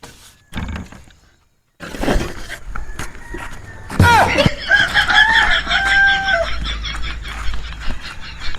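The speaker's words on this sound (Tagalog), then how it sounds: "Dapat ano ba sinasabi ng mga manok?" Chickens cluck nearby in bursts with a drawn-out crow in the middle, mixed with clattering noises and people talking.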